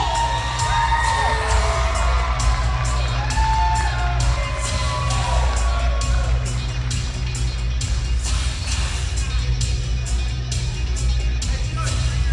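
A large wedding crowd cheers and shouts steadily, with whoops and scattered claps over a constant loud background of music and noise.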